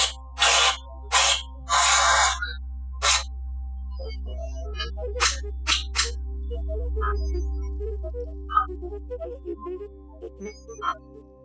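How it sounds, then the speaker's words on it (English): Several short hissing bursts of contact cleaner from an aerosol can into a Califone Card Master recorder, close and loud, followed by quieter clicks and small handling noises over a low hum. "So I'm going to spray some contact cleaner into that guy."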